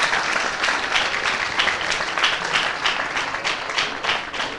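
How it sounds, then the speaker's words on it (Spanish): An audience at an expo talk applauds, a full, steady wash of many hands clapping at moderate loudness throughout, with no speech over it. "Otro aplauso para ella."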